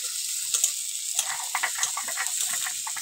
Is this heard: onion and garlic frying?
yes